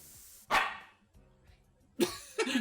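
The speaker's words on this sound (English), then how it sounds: "Doggo! The dog!" A dog in the video game AI: The Somnium Files barks sharply once, then gives a quick pair of barks a moment later, loud and close over a faint background.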